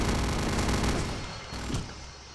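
Enemy gunfire in Return to Castle Wolfenstein: a dense burst of rapid shots that clatters for about a second and a half, dies down, then flares once more briefly.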